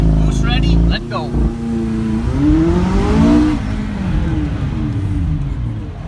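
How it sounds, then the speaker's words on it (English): A McLaren 570S launches at full throttle in launch mode. The engine is loud and close, dropping briefly and then surging in a continuous rising roar as the car accelerates away. "So I got my left foot on the brake first, then I press launch."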